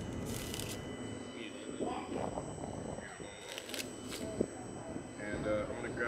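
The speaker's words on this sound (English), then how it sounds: "I'm gonna do a nice little shuffle real quick." A deck of playing cards is shuffled quickly at close range, giving several short riffling bursts with soft handling noises between them.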